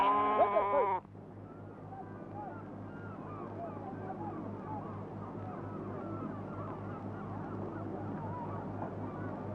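Lambs bleat at dawn as they are freed from a night rope at a Bedouin camp in Kuwait, many overlapping calls near and far over a steady low engine-like hum, with one loud close bleat at the start.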